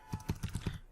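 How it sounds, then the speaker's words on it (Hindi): Five quick, distinct key taps on a computer keyboard as a roll number is typed, close and fairly quiet, with no voices. "तो चलिए हम यहाँ पे टाइप करते हैं रोल नंबर"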